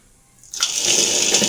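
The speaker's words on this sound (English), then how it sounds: "It immediately starts burning and splashing" A small piece of white phosphorus ignites after a quiet moment, bursting into a loud, steady hissing, sputtering roar that continues without pause.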